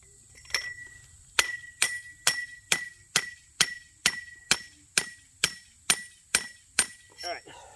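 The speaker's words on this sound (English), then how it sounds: "I'm going to hammer it in, and then I'm going to check for level." A hoop house pole is driven into the ground with about fourteen evenly spaced hammer blows, each a sharp, ringing metallic clang close by, followed by a brief voice at the end.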